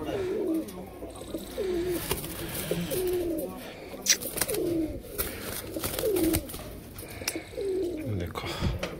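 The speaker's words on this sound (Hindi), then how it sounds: "देखो भाई कबूतरी देखो" Pigeons coo in a steady repeating rhythm of low throaty calls, a pure pair of breeding birds close by, with someone talking over them throughout.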